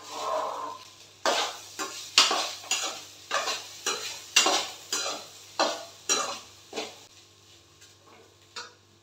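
Shabakki (sago) being mixed in a pot with a spoon, about a dozen rhythmic scraping strokes close up, each one sharp and then fading, with no talk.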